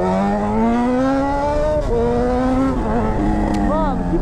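A Honda CB1000 motorcycle engine revs steadily while riding, its strong harmonic drone climbing in pitch, dipping briefly and then rising again. It stays loud and close throughout.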